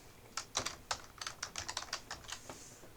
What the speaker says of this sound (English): And I'll type that in over here.